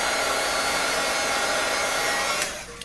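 Heat gun blowing over watercolor paint to dry it, a loud steady close-up whoosh of rushing air that holds constant and then cuts off near the end, with no talking.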